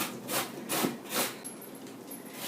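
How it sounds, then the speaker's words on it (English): Summer turnip is grated by hand for a kale salad, with four rhythmic rasping strokes, quiet and close, then softer scraping. "So I'm going to grate some of that in."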